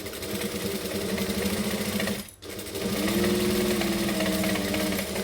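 A sewing machine runs steadily while backstitching a saddle bag seam, a close buzzing stitch rhythm that stops for a split second and then resumes for the reverse stitches.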